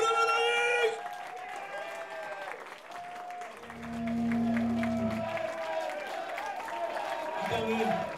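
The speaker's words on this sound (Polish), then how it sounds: "wielkie brawa na nich!" A crowd applauds the winners of a strawberry festival contest, continuous clapping with some cheering, moderately loud, with a voice and music sounding over it.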